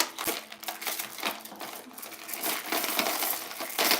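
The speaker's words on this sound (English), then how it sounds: "I'm going to put the rock crystal back in my drawer." Rock crystal jewelry and other antique pieces clink and rattle as they are put back into a drawer, giving close, busy clatters and jingles with a few sharper knocks.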